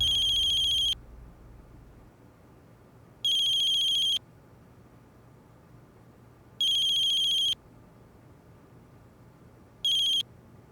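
A phone ringtone sounds in four short, clear electronic bursts, spaced a few seconds apart with quiet between, fairly close and alone.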